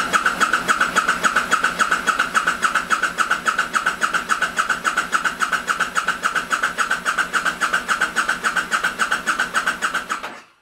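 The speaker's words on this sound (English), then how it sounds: "The bike set for 1 minute drawing 19 amps before we first cranked it over for 10 seconds" A 1000cc V-twin motorcycle starter cranks steadily on a Deca ETX14 AGM battery, loud and close, with fast even pulses holding for about ten seconds before cutting off abruptly.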